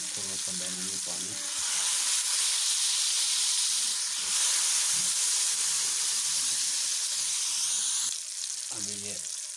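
Water poured into a pan of frying masala with salt and red chilli for an egg and tomato curry sets off a loud, steady hiss and sizzle of steam, with brief stirring sounds at the start and end.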